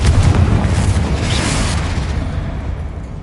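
A Confringo fire spell explodes in the video game Hogwarts Legacy: a single loud, deep boom that rumbles and slowly fades over a few seconds.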